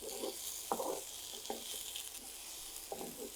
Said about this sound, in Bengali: টমেটোটাকে ভেজে নেব।